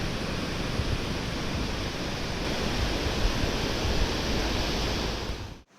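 A Himalayan waterfall roaring as a dense, steady rush of falling water, loud and close, unbroken until it cuts off abruptly at the end.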